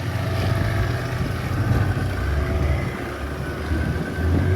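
A boat engine drones steadily as the craft heads out to sea off Dapoli at dawn for a deep-sea fishing competition, a low continuous rumble mixed with wind and water noise, with no voices.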